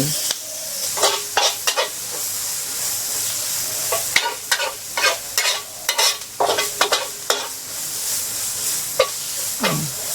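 Garlic sizzles in hot oil while a utensil scrapes and stirs the pan in repeated, irregular strokes, loud and close.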